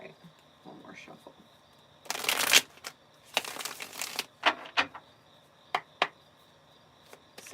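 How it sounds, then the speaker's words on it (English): Two bursts of quick, papery riffling as cards are shuffled close by, with soft taps and clicks between them in an otherwise quiet room. "All right, one more shuffle."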